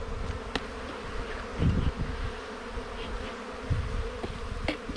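A honeybee swarm buzzes steadily around hive frames, a dense continuous drone with occasional individual bees passing close and brief handling knocks.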